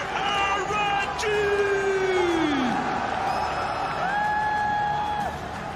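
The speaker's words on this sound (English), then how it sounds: "Encore une fois, un tonnerre d'applaudissements pour les RNG." An arena crowd at an esports match, the MSI 2018 semifinal, cheers for RNG. Sustained crowd noise runs under a long rising and falling whoop and shouts, with voices prominent throughout.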